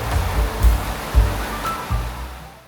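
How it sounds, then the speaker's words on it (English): Water splashes from the features of an indoor resort pool in Japan, a continuous wash of spray and surf-like noise with a few heavier low surges, fairly loud and with no voices. "there's a main central indoor pool with lots of water features"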